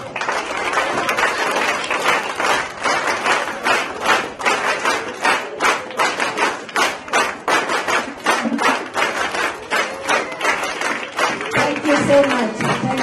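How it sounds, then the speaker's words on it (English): Parents in an audience at a children's rhyme-time stage show give a rhythmic signature clap, a steady run of sharp, evenly spaced claps that carries on for several seconds, with some voices mixed in. "Now the signature clap."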